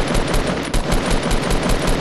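Gunshots in the video game Fortnite: a loud, rapid continuous burst of automatic fire, evenly spaced shots filling the whole moment with no talking.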